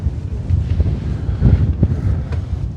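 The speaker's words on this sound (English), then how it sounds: "Pretty windy up here." Strong wind gusts buffet the microphone on the summit of Blue Mountain in the Adirondacks near a fire tower, a steady loud roar that swells and eases throughout.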